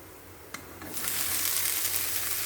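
Chopped banana flower drops into hot coconut oil in a pan, bursting from quiet into a loud, sustained sizzle about a second in after a couple of clicks, with no talking.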